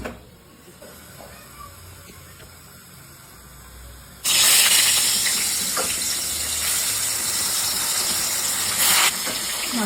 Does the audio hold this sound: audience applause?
no